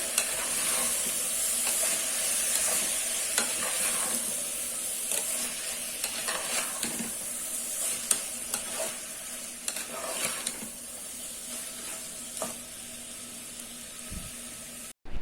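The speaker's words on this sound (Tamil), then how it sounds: "இப்போ மிக்ஸ் பண்ணி விட்டுக்கலாம்." Ingredients get stirred and mixed in a cooking pot for coconut milk rice, with a continuous hissing sizzle and repeated scraping strokes, close and steady with no talk, ending in a brief knock.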